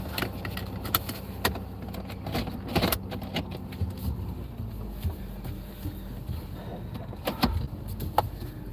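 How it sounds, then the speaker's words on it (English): Steady low rumble of a car rolling along a gravel road, with frequent rattles, clicks and crunchy bumps of tyres on gravel. "Hopefully the car isn't too noisy."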